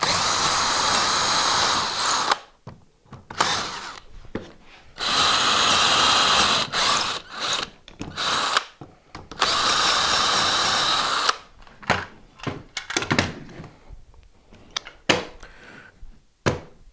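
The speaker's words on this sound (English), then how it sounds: "And I'll drill through." A handheld power drill drilling through wood at a lathe station, whining loudly in several long bursts separated by pauses, then shorter clicks and brief trigger pulls close by.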